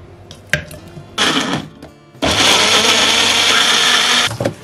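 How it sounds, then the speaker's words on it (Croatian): A blender chopping tomatoes whirs loudly in two bursts, a short one and then a longer sustained run, after a few clicks and knocks. "Biće vam potreban blender ili secko."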